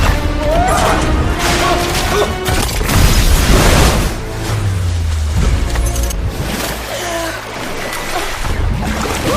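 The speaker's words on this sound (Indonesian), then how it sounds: "membuat ledakan pun terjadi" Loud crashing blasts and rumbling booms from a bomb explosion in an action film, with debris-like clatter and a low roar swelling midway as a building collapses.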